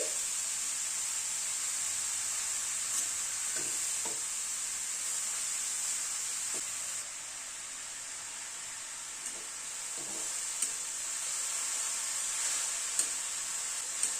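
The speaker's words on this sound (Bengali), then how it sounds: "গ্যাসের ফ্লেমটাকে মিডিয়ামে রেখে ধীরে ধীরে গাজরটাকে ভেজে নিচ্ছি।" Carrots frying slowly in ghee over a medium gas flame give a steady, soft hissing sizzle with occasional faint utensil taps, close but fairly quiet, no talking.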